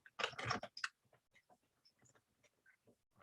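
Typing on a computer keyboard: a loud cluster of clicks at the start, then sparse, scattered keystrokes tapping irregularly and faintly, with no talking.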